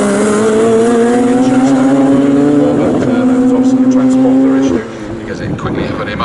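Radical SR1 race cars screaming past at Snetterton, a loud high-revving engine whine that rises and shifts in pitch before cutting off abruptly, followed by a quieter trailing engine and a commentator talking over it.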